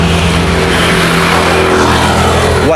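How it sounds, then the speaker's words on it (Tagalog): A motorcycle on a quiet empty road passes close by, its loud engine drone filling the whole short stretch and rising slightly at the end. "May motor."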